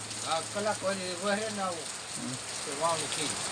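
The first monsoon rain of the season falls in a continuous hiss while someone talks over it, the downpour steady in the background.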